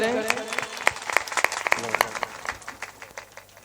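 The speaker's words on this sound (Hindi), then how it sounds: "एक बार जोरदार ताली का स्वागत करें।" A gathering at a Ram Katha religious discourse breaks into applause, starting with a burst of clapping that thins into scattered, distinct individual claps fading away toward the end.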